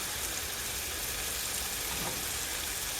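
Hamburger buns toast in a pan previously used for caramelizing onions, giving a steady, soft, even sizzle that holds without a break and with no talking.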